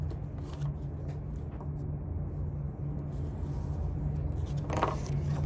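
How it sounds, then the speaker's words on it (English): Sheet of craft paper folded in half for a hot air balloon valentine, a soft steady rustle and crinkle close by, with a brief sharper crease sound near the end and no talking. "you're gonna fold your paper in half and draw half of a heart on the side that bends"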